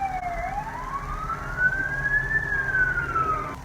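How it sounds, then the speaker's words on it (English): An emergency vehicle siren wails outdoors, its pitch sweeping slowly up and down in a long continuous rise and fall, steady and moderately loud over low road rumble. "There's a siren outside."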